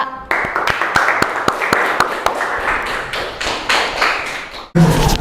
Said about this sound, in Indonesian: Tepuk tangan untuk kelompok Alpha.